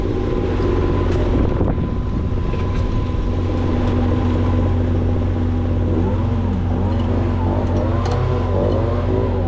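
A backup high-pressure pump used for cleaning a concrete boom runs at a steady, loud mechanical drone with a constant hum, continuous and close throughout.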